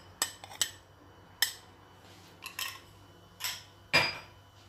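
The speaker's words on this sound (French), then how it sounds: "Je mélange bien." A spoon clinks and scrapes against a bowl while milk and cucumber are stirred into a face mask, in sparse irregular taps with quiet gaps between.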